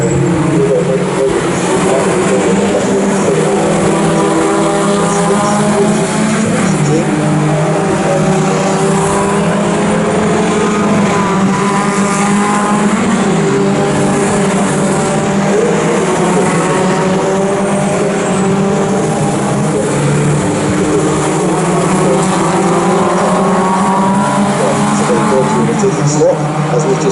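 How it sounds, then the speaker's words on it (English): Mini Cooper race cars lap the Knockhill circuit, a continuous loud engine drone with rising and falling revs as the cars pack through a chicane, with commentary running over the top throughout. "Through the chicane they go, and they pass Mark Gerrity's"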